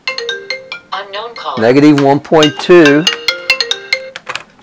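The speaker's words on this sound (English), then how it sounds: "I feel like I always get a phone call when I'm... putting up a video." A mobile phone ringtone goes off during a recorded statistics lesson: a bright, repeating electronic melody of short tones that runs throughout, while a person talks loudly over the middle stretch.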